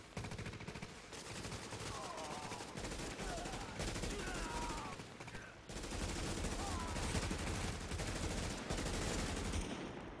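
Sustained automatic gunfire rattles nonstop as players mow down an enemy in the video game The Division, loud dense bursts with game effects and brief voices mixed in.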